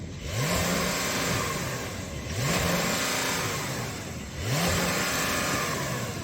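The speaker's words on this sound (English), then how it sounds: "So I'm going to put this car in sport mode and then I'm going to rev it, but it's got a soft limiter" Porsche 911 engine revved in sport mode while parked, three loud rising revs that climb and hit a soft limiter, each held briefly before dropping back, close and with no talk.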